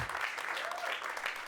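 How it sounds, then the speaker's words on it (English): Studio audience applause rings out for strong moms, a dense, steady wash of clapping that fills the short moment at moderate level. "So clap it up for the strong moms out there."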